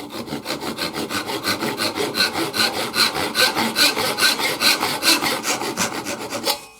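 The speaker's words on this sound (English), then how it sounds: "I'm just going to cut along that knife line." A hand saw cuts along a knife line in wood for a notch, rasping in a fast, even rhythm of about thirty close, loud push-and-pull strokes with no talking.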